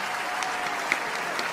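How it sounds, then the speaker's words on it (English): Brief burst of steady group applause, fairly even and moderately loud, with no voices standing out. "All right, everyone clap."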